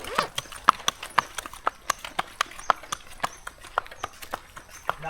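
A strong mare hauling a load of coconuts clip-clops along at a steady walking pace, each hoof strike sharp and distinct, about three per second, fairly close and with no talk over it.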